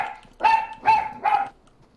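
A dog barks three times in Fortnite, evenly spaced sharp barks that sound close and clear, with no talking over them.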